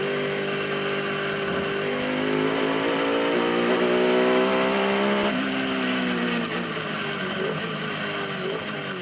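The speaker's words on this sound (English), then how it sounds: "This is powered by BMW M3 engine." A race car powered by a BMW M3 engine drives past during an endurance race, its engine note rising and falling through gear changes, loud and fairly close, with a steady high whine and no talk.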